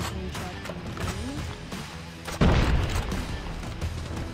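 A shotgun fires once in the middle of a Call of Duty Mobile match: a sudden loud, full blast rising over steady in-game battle noise and lingering in a rough tail.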